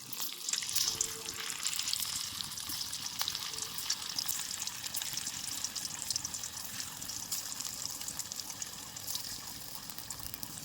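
Homemade paneer pieces frying one by one in lightly heated oil for shahi paneer, giving a steady, dense hiss with soft crackle that runs unbroken throughout.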